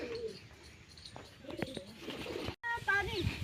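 A pigeon coos a few soft, low notes near the start and again at the end, amid household voices talking nearby.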